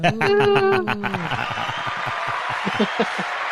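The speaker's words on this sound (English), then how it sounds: "We need a little applause for you then." A podcast audience breaks into broad, steady applause right after a short burst of speech, the clapping filling the rest of the moment at moderate loudness.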